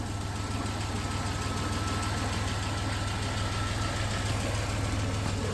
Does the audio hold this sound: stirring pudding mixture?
no